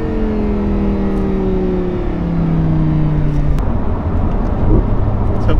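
An Audi R8 V10 with a Stage 1 tune runs with a loud, steady engine drone whose pitch slowly falls, then holds low and even, with no voices over it.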